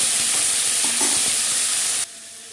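Green chillies, tomato, capsicum and potatoes frying in a pan with a steady loud sizzle and hiss, a few soft stirring scrapes mixed in, before the sizzle suddenly drops to a quieter level.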